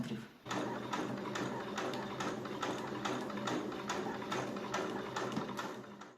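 A sewing machine runs steadily while stitching a seam 0.8 cm in from the second cut edge of the fabric, a continuous close rattling chatter with regular needle ticks. The stitching goes on for about six seconds without a break.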